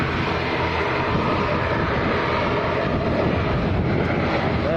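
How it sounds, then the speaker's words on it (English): An aircraft engine roars at Lanzarote airport, a loud, steady, broadband drone that holds unbroken throughout with a faint wind rush and no voices. "So I've absolutely no idea why this aircraft's holding."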